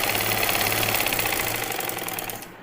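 An electric sewing machine runs steadily, stitching the front-side seam of a belt-style salwar, its motor whirring with rapid needle chatter throughout before the run eases off and slows near the end.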